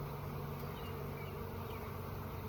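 Honey bees swarming around hive frames during a hive inspection, a steady dense buzz that stays constant throughout, fairly close and unbroken by talk.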